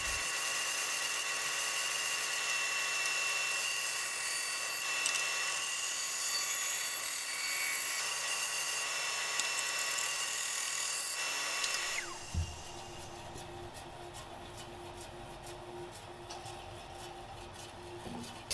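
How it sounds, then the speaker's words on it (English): Bandsaw with a thick blade cutting curved shapes in walnut for a table saw push block, a loud continuous high whine and buzz that drops away sharply at about twelve seconds into a lower motor hum as the cut ends. "just brought it over to the bandsaw once it was all drawn out, and I carved out the basic shape"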